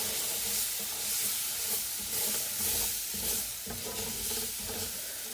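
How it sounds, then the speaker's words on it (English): Milk is poured a little at a time into a roux in a hot pan and stirred in, giving a continuous sizzle and hiss with scraping stir strokes close up and steady throughout. "So we're just going to add a little bit of milk at a time. A little bit. Mix it on up."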